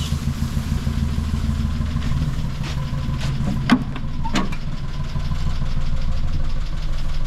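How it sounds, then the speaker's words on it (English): A Land Rover Forward Control engine idles steadily nearby with a low, knocking rumble, with a couple of brief sharp clicks partway through. "Sounds like a Land Rover."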